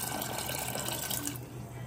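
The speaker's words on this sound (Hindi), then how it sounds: "पानी थोड़ा और ऐड कर लेते हैं।" Water pours steadily into a cooking pot of black chana curry, a continuous close rushing splash that thins toward the end, with no voices.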